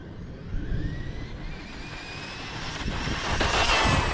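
A Traxxas Mini XRT RC truck's electric motor at full throttle gives a sustained, rising whine over a rushing wheel and drivetrain noise that grows slightly louder toward the end.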